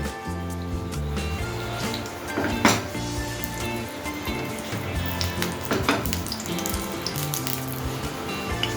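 Ghee mixed with white oil heating in a pan, a steady soft sizzle and bubbling crackle with a couple of brief louder spits, no talking.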